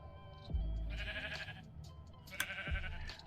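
Two bleats from a Minecraft sheep come a couple of seconds apart, faint and fairly close, with no talk over them.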